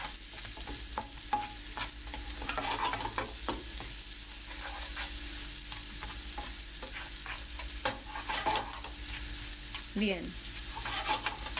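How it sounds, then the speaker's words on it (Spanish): Onion sautéing in a pan for spinach spaghetti sauce hisses and sizzles steadily while a spoon scrapes and stirs, with a brief spoken word over the frying. "Continuamos con la cebolla. Esto va ligeramente salteado."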